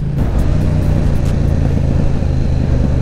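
A loud motorcycle engine roars close by, holding a steady, throaty rumble with slight revving pulses throughout the short stretch.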